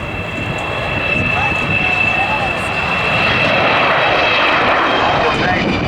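An Avro Vulcan XH558 bomber flying at the Cosford Air Show, a loud, steady roar of jet engines with a high whine, growing slightly louder, while a commentator talks over it.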